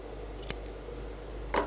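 Sewing scissors snip off excess suit fabric at the arm notch in two short, crisp cuts: a faint one early, then a louder, closer snip near the end, with a quiet room hum underneath.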